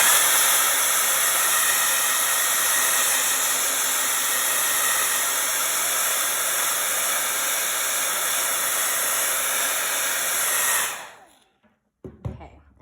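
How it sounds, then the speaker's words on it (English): A hair dryer blasts steadily to dry brown acrylic paint, a loud continuous whooshing roar that runs for about eleven seconds before switching off, followed by a few faint handling knocks. "Make sure your brown is dry. I'm going to blow mine dry to make sure."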